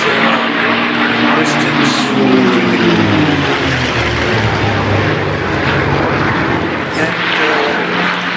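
A North American Mustang propeller aircraft drones loudly and steadily throughout, its engine note shifting slightly as it passes, with someone talking over it.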